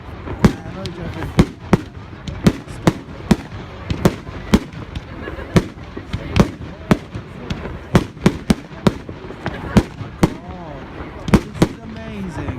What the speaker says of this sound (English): To watch the fireworks blowing up across the pond right now.